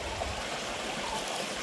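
Stream water flowing at TP Kotta waterfalls, a steady broadband rush with no gaps, fairly close and even in level throughout.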